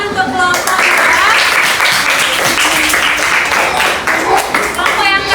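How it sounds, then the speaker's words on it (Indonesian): Classroom applause for a student group during an elementary lesson, a dense burst of children clapping loudly and close, with voices calling out over it. "Dan tepuk tangan untuk kelompok ya."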